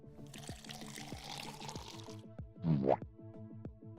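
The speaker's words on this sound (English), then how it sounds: "we'll be using Slaughter Red, a speed paint, through my airbrush." An airbrush sprays Slaughter Red speed paint onto a miniature, producing a steady airy hiss for about two seconds and then a brief second burst, over soft background music.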